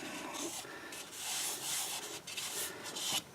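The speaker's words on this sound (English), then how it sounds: "I sanded the outside and the inside with my homemade sanding paste" Hand sanding of a green apple wood bowl on a lathe using homemade sanding paste, a steady broadband rubbing hiss with slight rhythmic swells, close and continuous with no talk.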